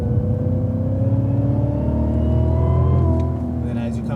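A race car engine running hard on a track while shifting into fifth gear gives a loud, continuous drone whose pitch climbs steadily as it accelerates.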